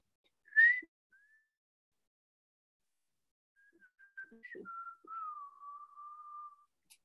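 A lone person whistles a short tune for a music quiz: a brief bright note, a pause, then a longer wavering melodic phrase with a few soft clicks, close and fairly quiet, with no talking.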